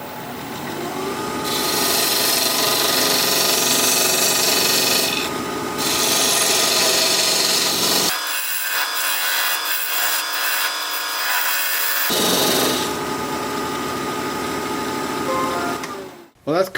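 Cracked wood blank being turned on a lathe, a loud steady scraping, rasping cut that runs continuously, drops to a quieter hiss for a few seconds, then resumes before a short clatter at the end.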